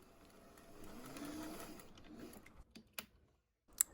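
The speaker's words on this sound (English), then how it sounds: "I'm sewing those together onto a band that is my bicep measurement plus 2." A sewing machine stitches puffed Regency sleeve pieces onto a band, running steadily for about two seconds and then slowing into short bursts and stops, fairly quiet with no talk.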